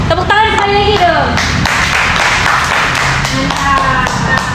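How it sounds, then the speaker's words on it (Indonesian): An audience bursts into hand clapping in a meeting room, a dense burst of loud claps that thins and trails off, with a voice speaking over it. "Tepuk tangan sekali lagi dong."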